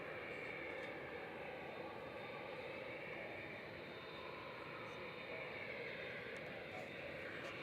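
Boeing 787-9 Dreamliner jet departing Manchester Airport gives a steady, distant engine roar that holds evenly throughout, with a voice talking over it.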